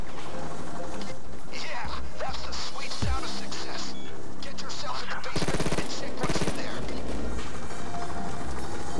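A Mac 11 submachine gun in Payday 2 fires in fast, rattling bursts with a tight stream of shots near the middle. The gunfire sits in a busy, loud mix with mechanical clacks and steady background noise.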